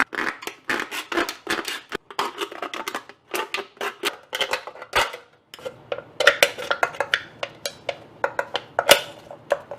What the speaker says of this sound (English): Just grab your knife and cut out this hole.